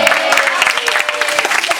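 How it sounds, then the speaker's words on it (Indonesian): Applause from a seminar audience, brisk dense clapping at a steady level with some crowd voices underneath. "Tepuk tangan"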